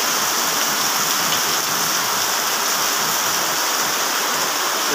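Heavy rain pours in a dense, constant roar with no letup, loud and close, with no voices over it.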